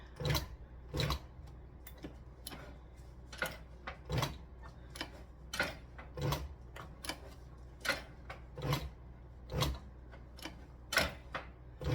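A walking-foot sewing machine stitches reverse appliqué on a side panel, giving a steady series of sharp, regular ticking clicks at close range, fairly quiet, with no talk.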